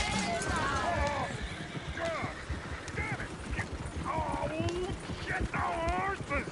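Horses in Red Dead Redemption 2 neigh and whinny repeatedly over clattering hooves, several shrill calls spread across the scene, with chaotic game voices and shouting mixed in.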